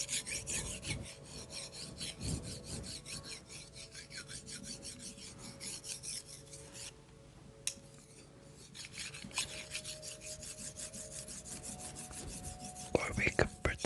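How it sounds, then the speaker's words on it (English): Sticks rubbed together in a quiet ASMR setting, a close, steady dry rasping and scraping that runs almost continuously with a brief softer pause midway. "Rub some sticks together."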